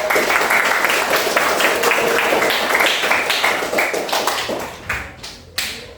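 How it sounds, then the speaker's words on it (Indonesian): A class of middle-school students bursts into lively applause that holds steady, then thins out into a few scattered claps and taps as it dies away. "semuanya tepuk tangan ya"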